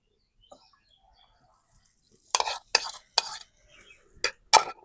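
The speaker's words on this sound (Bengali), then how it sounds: "এবার যে ময়দার যে ব্যাটারটা রেডি করেছিলাম, সেটা আর একটুখানি গুলে নিতে হবে।" Flour batter being stirred and whisked in a bowl, with a run of sharp utensil taps and scrapes against the bowl, following a quiet stretch; no voices.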